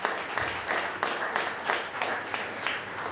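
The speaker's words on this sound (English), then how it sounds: "Give him a round of applause." A networking event audience gives Deputy Mayor Joe Florio a round of applause, dense steady clapping from many hands in a room, moderately loud and sustained throughout.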